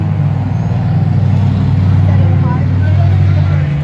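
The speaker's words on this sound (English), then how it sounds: "Car's dying. I hear it." An enduro race car's engine dying on track, a loud steady low engine drone with rough pulsing, heard close and continuous without clear breaks.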